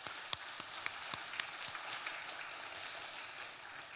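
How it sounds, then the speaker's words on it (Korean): Church congregation applauding together during a worship service welcoming new members, a steady, fairly quiet wash of clapping with a few sharper individual claps near the start. "이런 귀한 은혜의 시간을 주신 하나님께 영광의 박수를 드리겠습니다."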